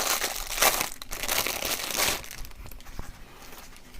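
Close-up crinkling and rustling of a small plastic packaging bag from a Genki Covert Dock for Nintendo Switch being handled and pulled open, in uneven bursts with short pauses.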